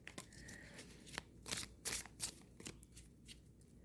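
Tarot cards are shuffled and mixed by hand in a quiet room, with a run of soft papery riffles and slaps coming in bursts, close and fairly faint.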